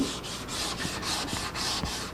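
Rhythmic back-and-forth rubbing and sanding on the wooden body of a 1964 ES 335 guitar, cleaning around the hole openings, with about eight close, evenly paced strokes and no talking.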